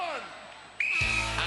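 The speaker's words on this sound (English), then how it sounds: "Andreya, you will go on my first whistle" A referee's whistle sounds once at the start of a UK Gladiators race event in 1996, a sharp, loud blast that holds briefly within arena noise after a commentator speaks.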